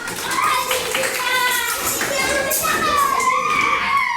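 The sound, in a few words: children clapping in class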